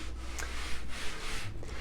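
A wet sanding sponge rubs back and forth over a concrete countertop laid over laminate, giving close, steady gritty strokes in a regular rhythm with no voices.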